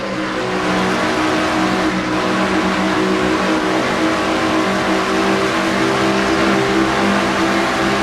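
Race cars in a Castrol GTX Cup Series stock car race at Michigan Speedway roar past at close to 200 mph, a loud, steady engine drone that holds unbroken for the whole stretch with no voices.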